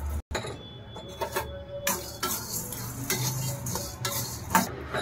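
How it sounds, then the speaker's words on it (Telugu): Peanuts, coconut and coriander seeds dry-roast in a pan for a gutti vankaya masala, stirred with close, busy scraping and rattling of the pieces against the metal, with intermittent louder clatters. "సో పల్లీలు కూడా కొద్దిసేపు వేయించుకోవాలి."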